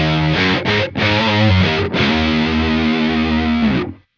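Distorted electric guitar with chorus-like effects through a pedalboard, played without the Electro-Harmonix Micro POG octave; loud sustained chords with brief gaps, ringing out and then cut off at the end.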